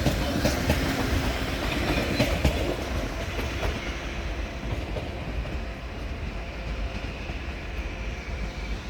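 An ICE train rolls into München Hauptbahnhof from Augsburg, a loud continuous rumble of wheels and carriages with faint clacking that slowly eases as it slows.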